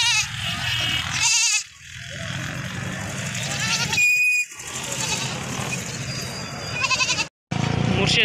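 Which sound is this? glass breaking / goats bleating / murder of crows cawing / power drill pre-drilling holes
goats bleating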